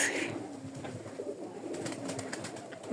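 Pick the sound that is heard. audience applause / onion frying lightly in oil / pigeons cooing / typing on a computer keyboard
pigeons cooing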